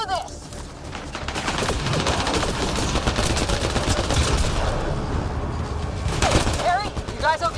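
Sustained gunfire in the sci-fi video game Mass Effect Andromeda during a planetside firefight against swarming creatures, loud continuous shooting with bursts, overlaid by game music and characters' shouted dialogue.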